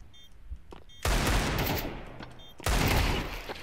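Two loud, close bursts of gunfire in a video game crash in with a sharp attack, each followed by a broad roaring tail; a quieter stretch with faint clicks comes before the first burst.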